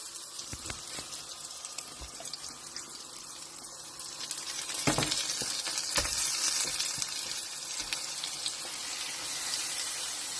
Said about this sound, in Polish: właśnie się smaży na masełku. Teraz wrzucamy cukinię.